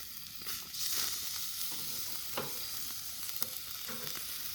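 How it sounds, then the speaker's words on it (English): Burgers sizzle over a fire pit, a constant crackling, hissing fry with scattered pops and snaps, close and steady with no talking. "I hear that sizzle."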